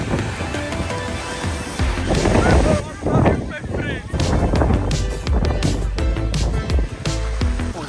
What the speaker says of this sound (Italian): Tira un vento esagerato, fa freddo e l'acqua è fredda.